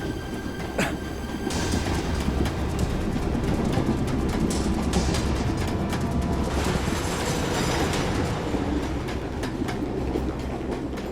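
A moving passenger train rumbles steadily and loudly throughout, its carriage noise dense and continuous with faint rail clatter and no voices.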